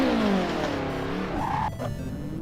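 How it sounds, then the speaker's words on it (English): BMW M3 E30 engine in the Assetto Corsa racing game, a loud close revving whine that falls then climbs in pitch before cutting off abruptly, with no talking. "I'm just gonna rev the engine some and see how loud it comes out on the recording"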